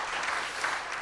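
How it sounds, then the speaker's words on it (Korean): A church congregation claps steadily for the children in a continuous, dense patter of applause filling the room, loud and even for the whole moment. "우리 나온 자녀들 우리 사랑하고 축복하는 마음으로 크게 박수로 격려합시다."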